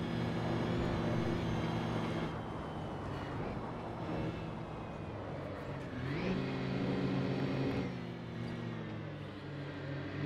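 Diesel race car engine in Assetto Corsa, a sustained tonal drone that dips and climbs as the revs shift through gears, moderately loud and continuous with no voices.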